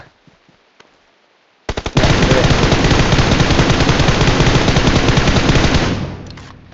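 Rapid automatic gunfire from enemy shooting in a video game, a loud, dense burst of rattling shots that starts abruptly after a few faint clicks and holds steady for about four seconds before fading.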